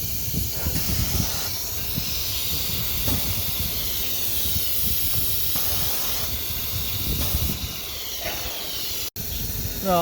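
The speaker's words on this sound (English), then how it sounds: "The spindle lift. It means the spindle cylinder, it will be down or up." A pneumatic spindle cylinder on an oscillating knife cutting machine with a CCD camera moves, producing sustained airy hissing with bursts of compressed-air release, heard alone in a workshop without talk.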